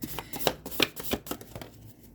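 Cards being shuffled in short, quick riffling bursts, close and fairly quiet, with no voices.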